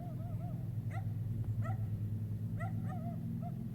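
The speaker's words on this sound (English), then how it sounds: "Fucking barking ass dog all the freaking time. Constantly, all the time." A dog barks repeatedly outdoors in short, yipping bursts, fairly distant, over a loud, steady low rumble of background noise.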